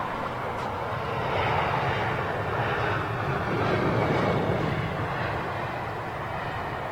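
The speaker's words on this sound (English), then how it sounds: "First BA Neo we've seen today in town." A British Airways Airbus A320neo jet at London Heathrow gives off a steady engine roar that swells and eases slightly, heard from a moderate distance with no speech.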